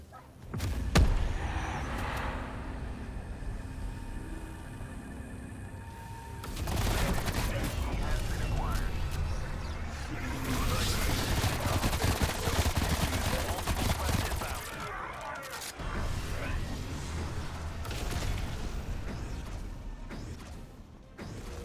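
Artillery firing sequence in Call of Duty Black Ops Cold War Zombies Outbreak mode: a sharp boom early, then stretches of rumbling fire, whooshes and mechanical clatter, with voices talking over parts of it.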